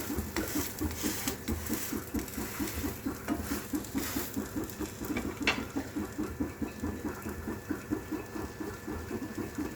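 Semolina toast fries in a pan, giving a steady close patter and sizzle with a rapid, even crackle throughout and no talking.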